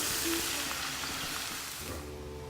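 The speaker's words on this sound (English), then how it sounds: "in very high heat oil, we're gonna add the shrimp, and we're just gonna let it sit there for a few minutes" Shrimp sizzle loudly in very hot oil in a pan: a close, continuous crackling hiss that eases slightly toward the end.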